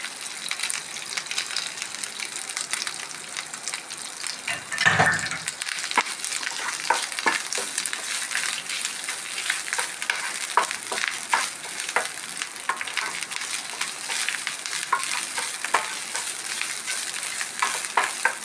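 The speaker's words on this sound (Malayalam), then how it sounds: "അതിൽ കുറച്ച് വെളിച്ചെണ്ണ വീത്തിൻ്റെ അത് വറുക്കാൻ പോവാം." Grated coconut fries and sizzles in coconut oil in a pan, a steady close crackle with stirring scrapes and one louder knock partway through.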